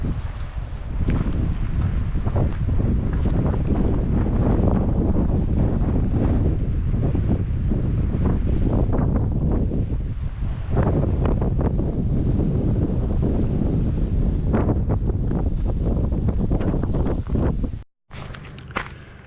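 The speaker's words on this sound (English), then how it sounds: "I'm going to step out for just a second into the wind." Strong, steady wind buffets a microphone outdoors in a front yard beside Acadia National Park, a loud continuous roar with a few scuffing steps, cutting out abruptly near the end.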